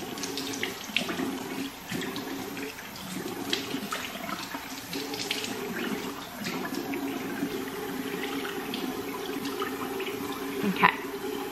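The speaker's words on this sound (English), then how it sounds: "now I'm gonna rinse my face. I always use cold water" Cold water runs from a bathroom tap into a sink while someone rinses their face, a steady close splashing and trickling with small bursts throughout.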